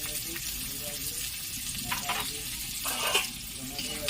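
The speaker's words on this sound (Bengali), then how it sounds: "তেলটা গরম হয়ে গেছে, এতে আমি কুচানো পেঁয়াজগুলো দিয়ে দিলাম" Chopped onions dropped into hot oil, a steady close sizzle and hiss with a few scraping stirs, no talk.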